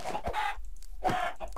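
Chickens in the video game Minecraft, two short bursts of clucking close by, separated by a brief pause, over a faint low hum.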